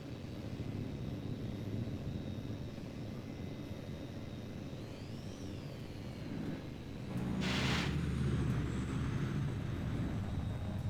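A steady jet engine roar from a fighter plane in the flight game Tom Clancy's H.A.W.X 2 drones throughout, with a brief whooshing burst near the end as the engine noise swells louder.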